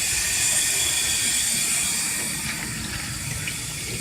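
Water pours steadily into a ZENY portable twin tub washing machine, making a continuous close hiss and rush that eases slightly toward the end.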